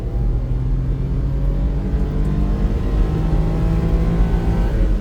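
A Mitsubishi car accelerating hard through its gears, a loud, steady engine drone with rising harmonic whine heard from inside the cabin, continuous for several seconds with no talking.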